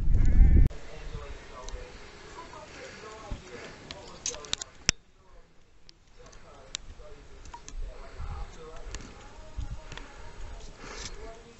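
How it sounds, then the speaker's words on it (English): Sheep suffering from fly strike bleat several times across the stretch, some calls close and loud, others fainter, with people talking and some handling and knocking noises in between. "Found a sheep with fly strike."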